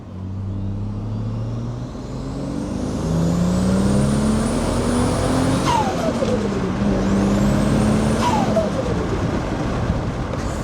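A Ford XR6 Turbo, long abandoned and burning coolant, revs up loudly as it accelerates, the engine pitch climbing steadily through two gear changes with a sharp whoosh between them, close and continuous.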